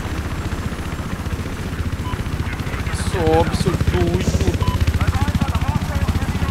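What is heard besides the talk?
helicopters flying in video game Battlefield 4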